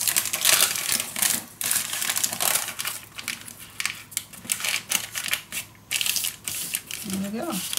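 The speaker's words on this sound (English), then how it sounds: "So I'm going to fold it again so it's easily in and out." Paper being folded by hand for a Cosmos-themed mini scrapbook album, giving repeated close crinkling and creasing noises, a soft tapping and rustling texture that keeps going under a speaking voice.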